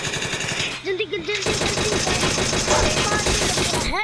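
Rapid automatic gunfire in a shooter video game, sustained bursts of loud shots rattling nearly continuously while someone talks excitedly over them.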